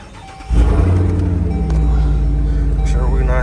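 A Dodge Durango SRT Hellcat pulls off on a test drive after a rear brake pad job, its engine rumbling loud and close as it accelerates, a deep steady drone under a voice.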